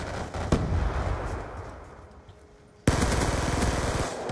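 Gunfire from the Call of Duty Black Ops 2 video game rattles in rapid bursts, fading briefly before a sudden loud stretch of dense automatic fire.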